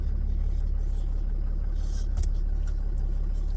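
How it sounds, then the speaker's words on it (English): A Ram 3500 pickup rolls slowly in drive, its engine giving a steady low rumble with a brief knock partway through, close and continuous with no talk. "Slowly moving. The tire just rolling."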